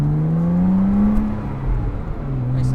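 A 2006 Porsche Boxster S fitted with a valved catback exhaust drones along at a steady, modest engine note, the pitch easing slightly upward then settling, heard close and continuous throughout.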